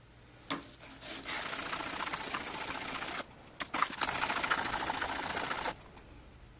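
A piece of ground steel scrapes machine marks off the wood of a headless guitar under repair in two long, steady, loud rasping strokes, separated by a short pause.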